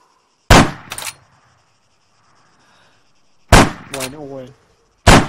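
Loud gunshots from the video game ArmA 3, a pair of sharp bangs followed later by more shots, with silence between bursts.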